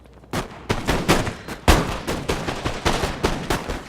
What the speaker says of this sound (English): Alright, let's get to shooting, boys.